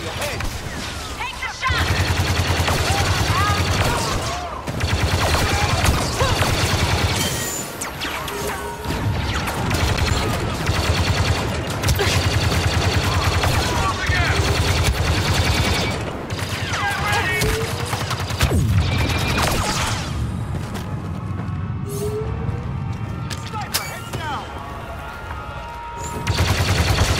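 Sustained blaster and gunfire from a Star Wars: Battlefront II battle on Vardos, loud and dense for most of the span with crashes and mechanical clatter mixed in, thinning out near the end.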